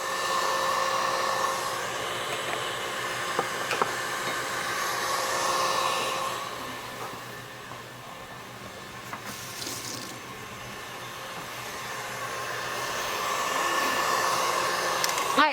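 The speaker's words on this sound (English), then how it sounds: "this is only heavy whipping cream in here right now, and I'm going to turn it up, and I'm going to let this whip up" A KitchenAid stand mixer whips heavy cream with a continuous loud whirring drone that rises and dips slightly in intensity, no voices heard.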